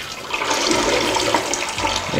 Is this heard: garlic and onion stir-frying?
no